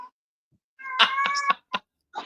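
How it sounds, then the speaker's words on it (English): A house cat meows a few times up close: one drawn-out, wavering call followed by two short chirps, with quiet gaps between them. "That's the cat now."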